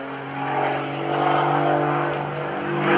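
An aerobatic airplane performing rolls at an airshow, its propeller engine droning steadily with a rising and falling pitch, moderately loud and sustained without talking.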